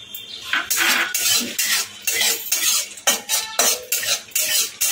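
Cashews and raisins fry in a pan for doodh shemai, with a metal spoon repeatedly scraping and stirring in rhythmic strokes over a faint sizzle, close and clear.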